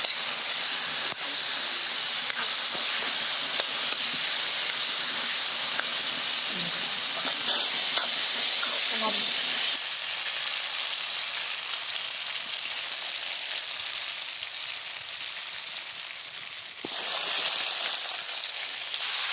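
Meat for a dish with banana stem sizzles in a hot pan, a steady, dense frying hiss that runs unbroken and close throughout, with small crackles rising and fading and no voices.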